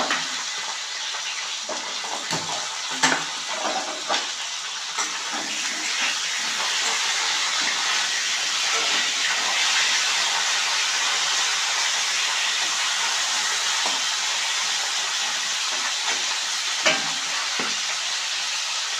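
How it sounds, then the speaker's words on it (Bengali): Cauliflower florets fry in oil in a kadai for a Bengali cauliflower, potato and paneer curry, giving a steady loud sizzle with a few sharp stirring clatters near the start. "ফুলকপি কড়াইতে দিয়ে দিচ্ছি।"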